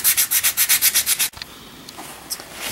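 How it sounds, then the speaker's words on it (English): Sanding the face of a Chevy gauge: about ten rapid rhythmic back-and-forth strokes, close and fairly loud, then a quiet stretch with a few faint light clicks. "So here we're going to sand the face of the gauge till it's smooth"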